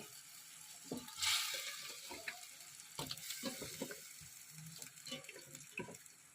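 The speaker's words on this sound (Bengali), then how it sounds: "মাংসগুলো দিয়ে দিচ্ছি" Chicken pieces hit a hot pan and fry with a steady sizzle, a louder burst early on, then soft stirring clatter and scraping throughout.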